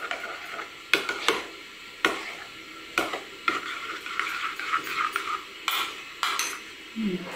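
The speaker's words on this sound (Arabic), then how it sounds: "هكدا نخلط كلشي في بعضاه بيان سور" Ingredients for a sheep's head dish are stirred and mixed together in a pressure cooker pot, with repeated close clanks and scrapes of a utensil against the pot over a soft sizzle.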